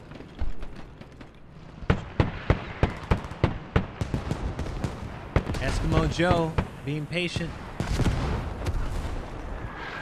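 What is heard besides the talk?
hell cannon artillery explosions in a video game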